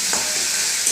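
Onion, garlic and ginger paste hits hot oil with a short, loud burst of sizzling and stirring, close and steady with no talking.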